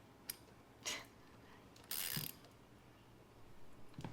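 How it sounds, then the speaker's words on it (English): A ratchet wrench with a 14mm socket tightens a chain adjuster bolt on a Ducati 899 Panigale motorcycle, giving a few faint, close clicks and brief scraping bursts in a quiet setting. "here we're just going to be using a 14mm socket and a wrench to slowly tighten it"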